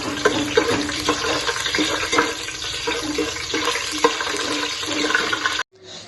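Garlic sizzles in hot oil in a pan while fried rice is being made, a dense crackling hiss that holds steady for several seconds before cutting off abruptly.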